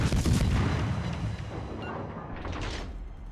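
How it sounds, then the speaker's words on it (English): Heavy naval gunfire from a Tier 9 hybrid destroyer in World of Warships, a loud low booming rumble that stays dense and sustained across the whole stretch with no talk over it. "And I might as well open up with my guns for a while."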